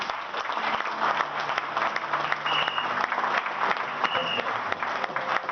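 A church congregation at a Sunday child presentation service breaks into sustained applause, steady clapping from a crowd throughout, with a few scattered voices mixed in.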